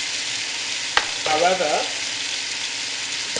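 Lamb and spinach curry cooking in a pan, a steady sizzle running under a brief spoken word and a short clatter.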